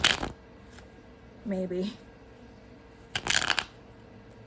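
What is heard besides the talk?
shuffling Shadowscapes Tarot cards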